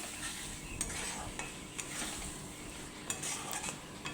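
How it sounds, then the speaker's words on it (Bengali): Spiced masala with sugar stirred and fried for a mutton curry, a steady close sizzle with scraping spoon strokes and a few sharp clinks against the pan, no talking. "পরিমাণ মতন একটু চিনি দিয়ে মশলাটাকে আবার কষিয়ে নিচ্ছি"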